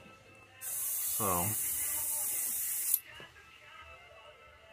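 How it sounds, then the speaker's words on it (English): Close, steady hiss of an airbrush spraying paint on a bluegill fish lure, lasting about two seconds before stopping, with a brief spoken word over it. "Let me get it to where it'll spray."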